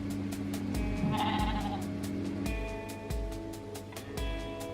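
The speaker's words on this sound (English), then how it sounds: "There's sheep." Sheep bleating repeatedly, several wavering calls overlapping in the open air of the Northumberland hills, some nearer and louder than others.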